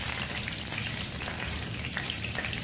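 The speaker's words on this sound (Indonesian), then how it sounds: "pertama di sini kalau udah panas aku mau goreng dulu daun jeruknya" Kaffir lime leaves fry in hot oil, a steady, dense sizzle and crackle with no voices, holding even and moderately close throughout.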